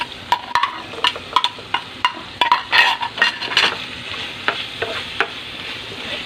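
A utensil stirs spicy pork binagoongan with green chili in a pan. Close, repeated scraping and clinking strokes come at an irregular pace over a faint sizzle, with no talking.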